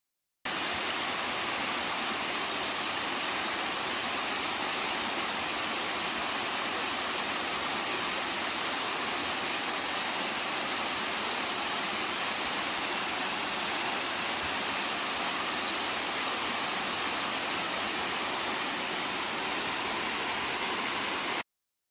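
A steady, dense roar of falling water from a canyon waterfall, continuous and full-bodied throughout with no voices.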